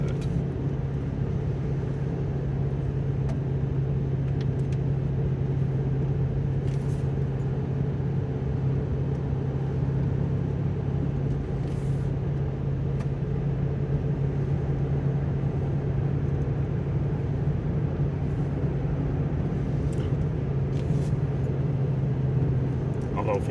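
A 2004 Dodge Ram 1500 with a 287 V8 and cold air intake climbs a long hill, heard from the cab as a steady low engine drone and road rumble, with someone talking over it.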